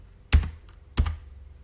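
The backspace key on a computer keyboard is pressed twice, each a crisp close clack with a slight rattle, separated by a short pause in a quiet room.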